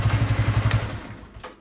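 Yamaha MT-125 motorcycle with a stock, catalysed engine idling with a steady low throb, then cutting off as the engine is switched off and the sound fades toward quiet; no one speaks.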